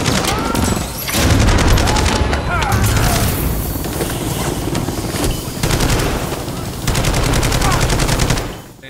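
Heavy gunfire rattles in sustained automatic bursts and booming shots, aimed at a helicopter during a Modern Warfare 3 campaign battle, with brief gaps between volleys and shouted voices over the din.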